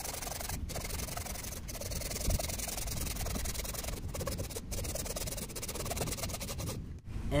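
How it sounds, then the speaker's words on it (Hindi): A hand saw with an axe blade is drawn along a piece of wood while making a wooden hand plane, a steady rough rasping scrape repeated in strokes, with brief pauses between passes. "जैसे मैं आरी से इस एक्स ब्लेड से इसको"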